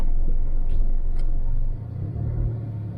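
Queued cars idle outside an Indonesian shop in Jeddah, heard as a steady low engine rumble close by that eases and then swells slightly, with faint high chirps.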